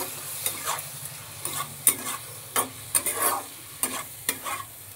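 Green chilli paste stirred into a sizzling pan already holding onion, ginger, garlic and tomato paste: loud, close frying hiss broken by a dozen quick, sharp spatula scrapes in an irregular rhythm.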